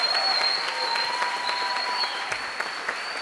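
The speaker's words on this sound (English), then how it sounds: "Let's give them a big round of applause for being a part of this tonight" An audience at a 25th Ward candidates debate applauds the candidates: continuous, fairly loud clapping from a crowd, even and unbroken, with a faint steady electronic tone running beneath it.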